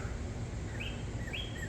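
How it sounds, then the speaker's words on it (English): Loud bird chirping outdoors, short bright chirps repeating every half-second or so over a steady background hiss of outdoor noise. "that bird is loud"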